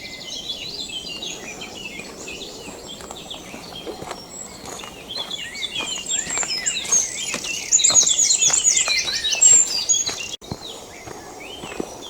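A blackbird sings amid a dense dawn chorus of other birds in Belvoir Forest, Belfast, with bright, continuous chirping and warbling that swells louder toward the end, along with soft footsteps on a path.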